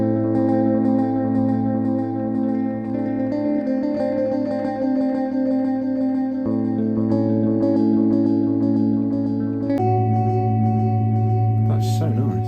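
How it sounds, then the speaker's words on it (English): A sustained tone processed through a Chase Bliss Habit pedal in a multi-head delay setting, stacking a second echo straight after the first into a thick repeating wash. Steady and loud, its pitch shifts partway through, with no talking. "just kind of adds a second delay in straight after the first one"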